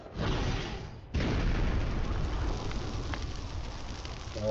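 A roaring, whooshing burst of broadband noise flares up, cuts off briefly, then surges back as a sustained rumbling blaze that fills the clip loudly.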